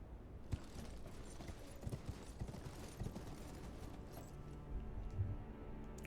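Steady clip-clop of horse hooves in the video game Elden Ring, a continuous rhythmic trot over a busy battlefield background with occasional sharper thuds, moderately loud and without talk.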